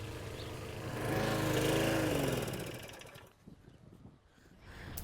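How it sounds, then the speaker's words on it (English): A lawn mower engine runs close by, a loud steady drone that swells and then fades to a quieter rattling idle, with no talk over it. "For mowing other people's lawns"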